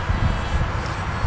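An r/c MIG-X1 model jet engine idling at very low throttle, a steady broadband rumbling whine that stays even and fairly close throughout, with no voices.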